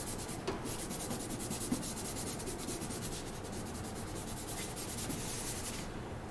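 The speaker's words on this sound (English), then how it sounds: "I used the masking fluid, I just rubbed it off" Bare fingers rub dried masking fluid off a painting in a steady, close scratchy friction that runs on continuously without pause.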